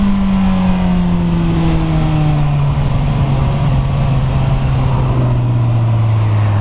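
Suzuki GSX-S1000F motorcycle cruising at speed, around 70 mph on partial throttle, a steady engine drone with a slowly falling pitch under heavy, constant wind roar.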